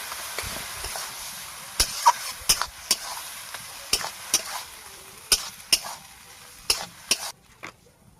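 Boiled potato being stirred and tossed in a frying pan with spices, a soft steady sizzle under a series of sharp, irregular scrapes and knocks of the spatula against the pan, close by.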